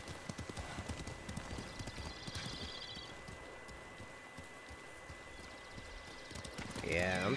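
Horse hooves clip-clop in a steady, rapid rhythm throughout a ride in the video game Ghost of Tsushima, moderately loud over game ambience, with a horse whinny near the end.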